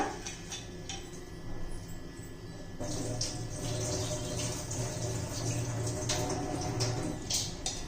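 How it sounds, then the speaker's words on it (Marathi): Water trickles and splashes steadily as it is drained off soaked mung beans, like pouring off a container into a sink, with small clinks and a fuller flow after a moment. "भिजून त्यातलं पाणी काढून घेऊया"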